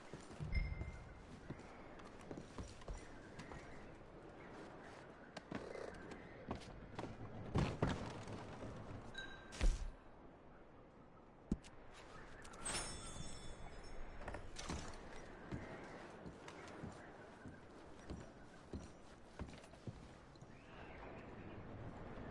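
Horses clip-clopping in a PS4 video game, faint and quiet: scattered hoof thuds and knocks over a soft background, with a few louder bumps along the way and no talking.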